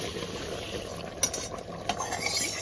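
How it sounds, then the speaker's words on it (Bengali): Mutton masala being scraped and poured from a wok into a pressure cooker, with a steady sizzle under scattered metallic scrapes and clinks of a spoon against the pan. "এবার আমি এই কড়াইয়ে যেগুলো করছিলাম ওটাকে প্রেসারের মধ্যে ঢেলে দিচ্ছি"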